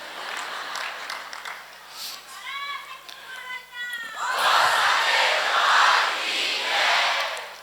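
An audience applauds at a gathering of saints, with the clapping building into a loud, sustained wash alongside crowd voices and shouts.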